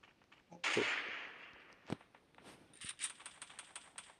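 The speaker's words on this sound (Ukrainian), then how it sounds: "Так, там десь стріляють." Sharp gunshot cracks in the video game Free Fire: one loud burst, a lone shot a moment later, then a quick string of fainter, more distant shots.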